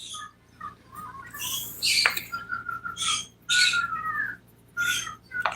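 Pet birds squawk and whistle indoors in bursts over a faint children's TV show, with sharp piercing calls and shorter chirps separated by brief quiet gaps, fairly close and loud.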